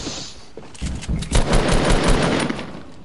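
Rapid bursts of gunfire from a PS4 shooter game, including a hand cannon, crackle loudly and continuously for a few seconds, with dense overlapping shots and no voices.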